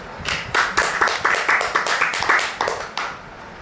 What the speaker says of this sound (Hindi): परमेश्वर के लिए ताली बजाएंगे सब लोग